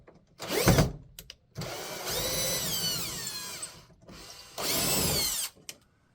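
A power drill spins out the four fasteners holding a light fixture in a teardrop trailer galley, with short trigger bursts alternating with longer whirring runs as each screw backs out, close by and without talk.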